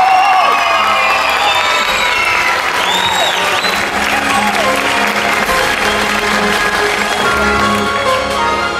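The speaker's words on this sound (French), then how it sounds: "Vous applaudissez de moins en moins fort." Loud, continuous applause and cheering from an audience at an annual dance gala after championship results, with whoops and children's shouts in a dense, steady roar.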